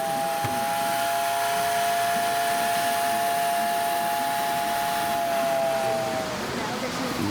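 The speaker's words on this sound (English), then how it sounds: "Tornado siren." A tornado siren sounds at a transportation museum as one long, steady wailing tone that holds for about six seconds before trailing off, with a hum of background noise and voices around it.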